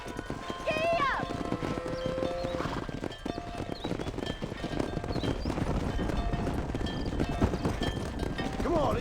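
Horse hooves clip-clop in a Red Dead Redemption game scene set in a Western town, with several horses close by, an occasional whinny, and game dialogue talking over much of it.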